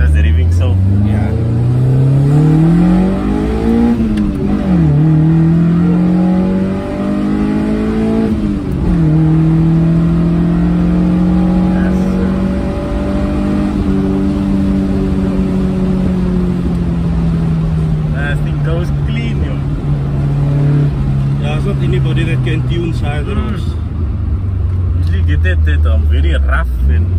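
A Toyota Corolla KE70 with a ported and polished head and oversized pistons revs repeatedly, its engine note climbing and falling, then holding a long, loud, droning pitch close by. Voices are faint in the background.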